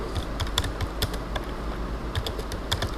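Close, steady clicking of keys as someone types JavaScript code on a computer keyboard, with rapid irregular keystrokes continuing for three seconds and no voices.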